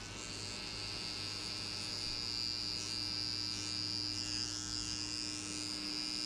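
An electric hair trimmer buzzes steadily and close during a burst fade haircut, a constant low electric hum with a fine high whine that holds evenly throughout without pauses.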